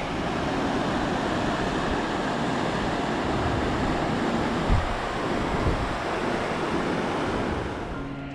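Granite Canyon Creek in Grand Teton National Park, Wyoming, rushing steadily over rocks in a broad, continuous wash of flowing water, close and fairly loud, with some wind buffeting the microphone.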